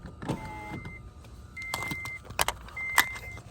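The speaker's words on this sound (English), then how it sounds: "lower the window" A rental car's electric power window lowers in short motor whirs amid small clicks and a brief key jingle, close and quiet with no talking.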